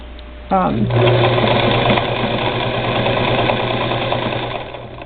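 Singer Model 237 sewing machine stitching through four layers of pieced denim, a steady, close mechanical whir and rapid needle clatter that starts abruptly and runs continuously to the end.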